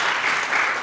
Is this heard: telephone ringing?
no